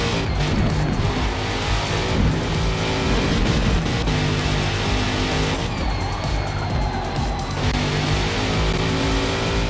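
A race car engine in a racing video game at Watkins Glen drones steadily at low revs, held in a higher gear, close and loud throughout with brief tire squeals mixed in.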